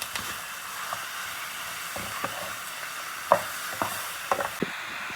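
Pork riblets hit hot vegetable oil with onion, garlic and ginger, giving a steady close sizzle broken by a few sharp spatter pops and utensil clinks.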